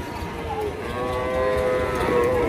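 Calves mooing repeatedly at a busy cattle market in Rajshahi, a sustained lowing call rising over a continuous background murmur of the crowd.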